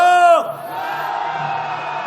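A rally crowd at a street march calling for a president's impeachment lets out a collective shout, a loud mass yell of many voices carrying across the street, following a brief amplified call that launches it.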